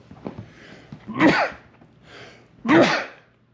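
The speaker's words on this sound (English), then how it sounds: "That dog's making me sneeze." Two sharp sneezes, close and loud, each preceded by a quick intake of breath, about a second and a half apart.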